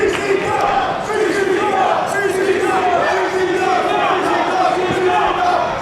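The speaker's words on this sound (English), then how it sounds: "The crowd beginning to rally here in Hialeah." Wrestling crowd at an indoor Hialeah show roaring and chanting continuously, a dense wall of cheering and shouting with rising rally calls that never drops off through the whole stretch.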